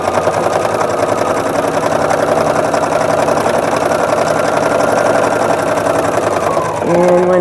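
Sewing machine stitching fabric for a placemat, a steady close, loud mechanical whir running continuously, with a brief change in tone near the end.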